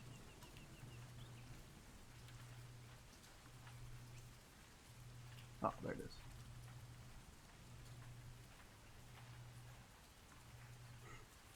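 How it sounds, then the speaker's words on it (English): Steady rain patters continuously across the whole stretch, with a brief louder knock partway through and a faint low hum repeating underneath. "It's always raining."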